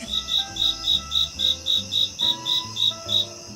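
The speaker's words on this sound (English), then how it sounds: "I was just about to say crickets." Crickets chirp in a steady, evenly spaced series of about a dozen bright pulses, loud and close, over a low sustained musical tone.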